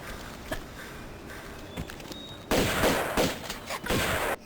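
Shotgun blasts in Tomb Raider 2 Remastered on the Offshore Rig level: a few faint early shots, then a loud burst of several close, sharp booming reports in quick succession.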